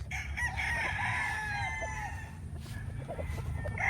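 An eight-month-old gamefowl stag crows, a drawn-out nasal cock-a-doodle-doo that fades into softer clucks, fairly close over a low steady background hum.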